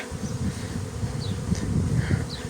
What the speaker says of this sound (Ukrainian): це бджола йде гружена